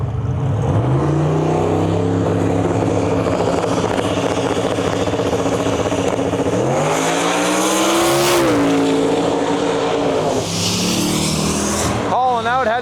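A Chevy II drag car blasts down the strip, its engine a loud sustained roar that climbs in pitch through the gears before easing off near the end, with a voice talking over it.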